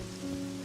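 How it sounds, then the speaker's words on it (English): Steady rain falls in the video game Pokopia, a soft continuous hiss of drops on a surface with a low ambient hum beneath, even and unbroken throughout. "The sound of rain really got me"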